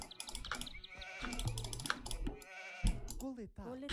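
Sheep bleat in an Age of Empires II match on a summer arena map, several short game-animal calls mixed with clicks and other in-game sounds under dense, busy activity.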